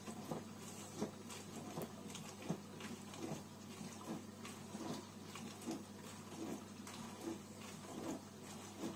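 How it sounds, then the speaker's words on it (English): A Cookology CMDW2BK dishwasher runs quietly with a steady low hum and soft, intermittent water bubbling and sloshing, close by and with no talk. "It's nice and quiet except for anything bubbling a bit."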